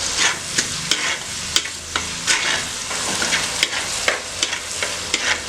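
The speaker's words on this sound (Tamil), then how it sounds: "தக்காளி நல்லா வதக்கியாச்சு" Tomatoes sautéing in a pan for village-style fish curry, with steady sizzling and repeated scraping strokes of a spoon stirring through, close and fairly loud, no talking.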